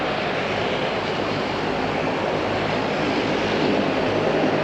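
An airliner on the Gisborne flight at Auckland Airport makes a constant broadband engine rumble, moderately loud and unchanging, with no one speaking.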